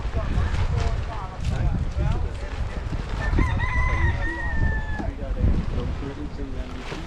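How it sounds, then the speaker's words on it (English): Chickens cluck and cackle close by over a busy outdoor background at a beach in the Exumas, with a rooster-like drawn-out call in the middle and people talking. "Yeah, chicken. A little cocky."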